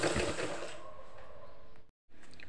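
Sewing machine stitching a blouse seam at its side after the shoulder has been taken in, a steady whirring run close by that stops abruptly near the end and then briefly resumes.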